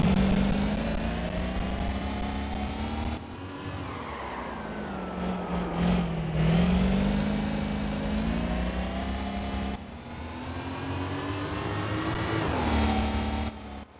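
A race car in the Gran Turismo PSP video game drives through a winding section of corners, its engine droning loudly and steadily, with the pitch rising and falling as it brakes and accelerates, and no talk over it.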